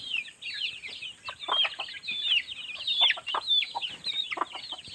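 Several chickens cluck and chatter close by in a busy, overlapping flock, with sharp repeated calls and no talking.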